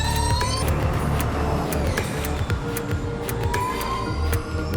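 A Formula E electric race car, a Jaguar on a flying lap at the New York City E-Prix, gives a steady loud high whine over dense broadband track and crowd noise, with sharp transient clicks throughout and no pause.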